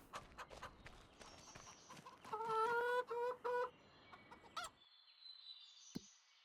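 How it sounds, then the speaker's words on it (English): Chickens cluck and squawk on a farm in the Farming Simulator 25 video game, a burst of loud rhythmic calls among softer clucks and light footsteps, then a fade to quiet with a faint distant cry. "How is our chickens doing?"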